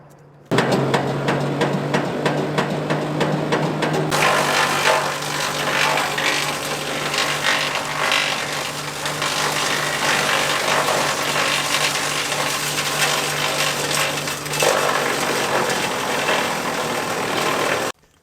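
A woodchipper turns dead trees, cleared from around a lake, into fresh chips, with a loud, continuous engine roar and grinding that runs steadily for about seventeen seconds, close by, with no talking.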